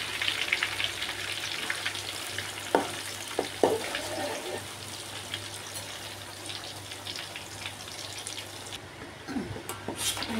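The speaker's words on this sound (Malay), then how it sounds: "Ini saya goreng kali kedua." Anchovies frying in hot oil for a second round, a batch of about 500 grams cooked until crisp for sambal bilis, with a dense, steady sizzle and occasional clattering stirs from a utensil; no speech.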